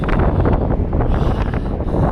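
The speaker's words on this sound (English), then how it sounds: "we're down here in a very windy Gwithianstown beach here" Strong wind buffets the microphone on Gwithian beach in Cornwall, a continuous loud roar with gusty rumble and no speech.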